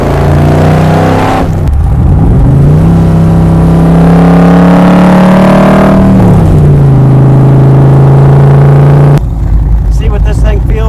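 A Backdraft Racing 1965 Shelby replica's loud engine revs hard and climbs through the gears, pitch rising and dropping with each shift, sustained and close for the whole stretch.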